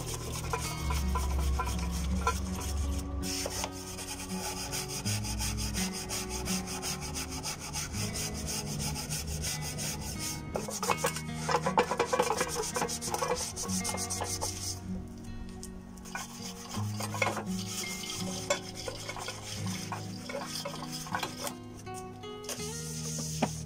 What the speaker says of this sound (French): je viens ensuite frotter donc avec le tampon pro qui est une éponge abrasive qui ne raye pas